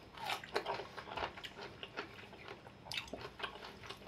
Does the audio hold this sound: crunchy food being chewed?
yes